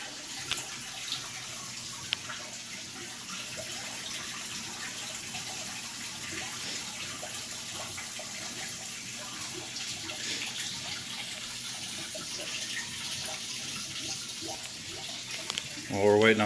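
Water running steadily into a python's aquarium during a tank water change, a constant faint splashing flow with a brief louder gush near the end.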